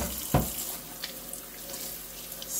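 Warm water runs from a tap over a Multipure Aquaversa water filter cartridge as it is rinsed of sediment in a sink, a steady close wash with one brief louder splash near the start.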